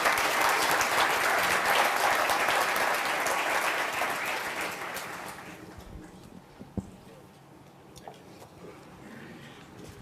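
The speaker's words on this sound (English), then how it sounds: "give a very warm round of applause to the President of the African Development Bank, Mr." Warm applause from a conference audience greets the President of the African Development Bank at a leadership event in Kigali, loud and dense for about five seconds before fading to a quieter hall with a few scattered claps.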